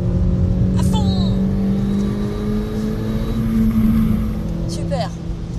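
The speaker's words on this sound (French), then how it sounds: "On accélère un petit peu, vas-y." Car engine during a driving lesson, a steady droning hum that holds through the clip with slight rises in pitch as it speeds up, close and continuous, with brief interior clicks.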